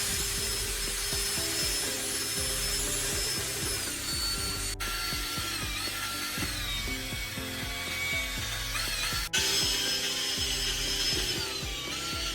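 A power drill with a mixing paddle whirs steadily, churning thick cement mixed with detergent in a bucket with a continuous grinding hum.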